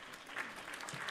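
Short burst of canned applause played as a sound effect on a livestream trivia pre-show, a dense steady patter of claps at moderate level with no talk over it.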